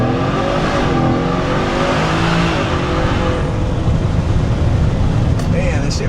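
A Whipple-supercharged Ford F150 pickup launches hard, its engine roaring loud and steady close by while the revs climb and bog slightly, with voices murmuring under the noise.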